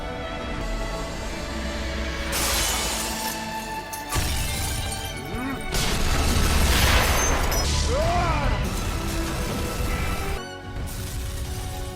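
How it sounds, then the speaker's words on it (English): A dense, roaring blast rumbles with crashing debris and swelling booms, layered under dramatic music, loud throughout with a sudden drop near the end. "He triggered an explosion, sacrificing himself and the mutant so Yubei's death would not be meaningless."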